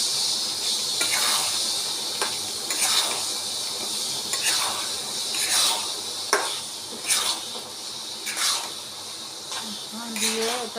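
Soaked tamarind mixture stirred continuously in a pot so it won't stick: a constant hissing simmer with repeated swishing spoon strokes about once a second, close, and a faint voice in the background.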